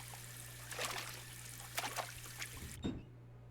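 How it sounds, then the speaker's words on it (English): Cold water splashing on a face at a bathroom sink in a video game, soft trickling and dribbling with a few brief splashes over a low steady hum, ending abruptly. "I went to the bathroom and splashed some cold water on my face."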